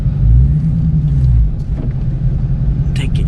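A 2021 Dodge Challenger Super Stock in sport mode pulls away, its deep low engine rumble loud and steady, easing slightly midway, with a brief higher hiss near the end.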